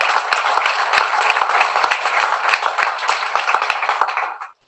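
An audience at a teachers' forum session applauds, a dense, loud, continuous patter of many hands that cuts off sharply near the end.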